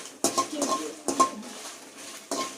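Dried red chillies are stirred while roasting in oil in a pan, giving a few distinct metallic scrapes and clinks of a spoon against the pan, close and separated by short pauses.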